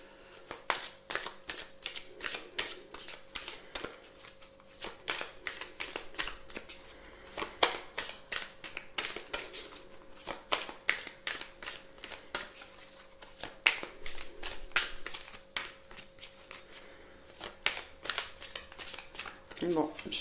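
Tarot cards are shuffled close up, with a long series of crisp, sharp riffles and slaps in an irregular rhythm, while a person talks quietly underneath.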